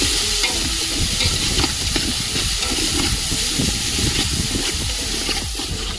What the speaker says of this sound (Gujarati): હાલો ભાઈઓ હવે ટમેટા નાખી દઈએ. હલાવી નાખે ભાવેશભાઈ.